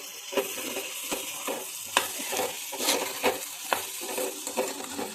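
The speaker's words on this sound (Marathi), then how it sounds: "याला परतवून घेऊया" Whole moong beans and potato sautéing in a pan, with a steady sizzle and repeated scraping stirs at an irregular rhythm, close and moderately loud, with no voices.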